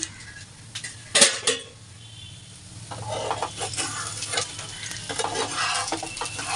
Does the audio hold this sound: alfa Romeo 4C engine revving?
no